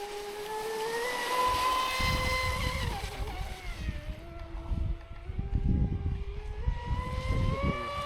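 A Traxxas Spartan SR 6S radio-controlled speedboat runs across water, its electric motor whining with rising and falling pitch as it speeds, turns and skims, with splashy wash underneath.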